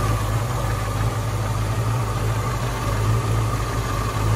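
A 1965 Ford Mustang fastback V8 engine idles steadily nearby, a deep rumbling throb with a constant low hum and no changes in speed.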